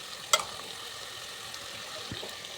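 Tomatoes dropped into a pan of frying green chilies with a sharp clatter, followed by a soft, steady sizzle and a faint scrape.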